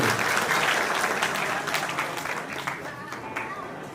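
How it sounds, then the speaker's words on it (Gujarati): A crowd at a community get-together applauds loudly with dense, sustained clapping that gradually tapers, with faint voices mixed in toward the end. "એકવાર જોરદાર તાળીઓથી વધાવી લઈએ"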